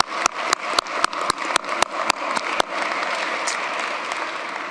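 An audience at an inauguration ceremony claps, opening with a series of sharp, separate claps that quickly merge into steady, sustained applause across the room.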